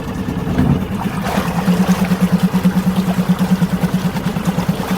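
A Suzuki outboard engine running in gear thrums steadily up close, loud and even, with a regular pulsing throb and a low drone, and no voices over it.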